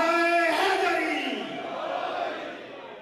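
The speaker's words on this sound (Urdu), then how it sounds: "باواز بلند، دونوں ہاتھ بلند کر کے نعرہ حیدری" A crowd at a religious gathering bellows the slogan Nara-e-Haidri, a loud massed shout that swells at once and then fades slowly into a long, reverberant roar.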